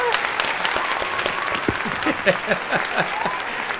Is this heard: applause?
yes